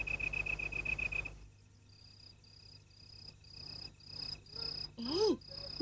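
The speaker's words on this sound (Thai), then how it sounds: "นั่นจิ้งหรีดต้นไม้นะ" A tree cricket chirps in a steady high trill at first, then a series of short, evenly spaced chirps follows, with some birdlike whistles near the end; moderately loud and close, no voices.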